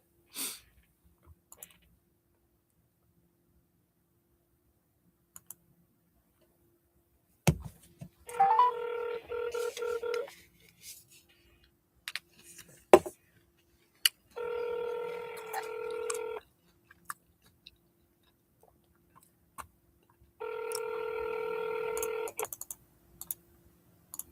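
A phone call is placed: three bursts of steady ringback or dial tones, each lasting a couple of seconds and separated by short gaps, with scattered faint clicks. A loud click comes between the bursts. No voices are heard.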